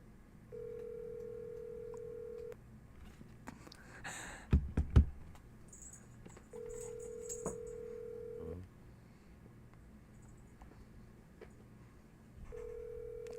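Phone ringback tone over a speakerphone, steady buzzing tones repeating with pauses, plus a few clattering handling noises in between.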